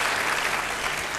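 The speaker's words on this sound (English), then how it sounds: "So let's give him applause." Brief applause from a women's wellness congress audience for a doctor, a dense, steady clatter of many hands lasting only a moment.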